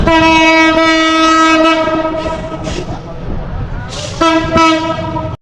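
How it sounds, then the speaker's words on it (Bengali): A passing train sounds a loud, sustained horn, which breaks off and returns near the end over the rumble and clatter of the rail cars, close by. "বন্ধুরা, ওই যে ট্রেন আসছে।"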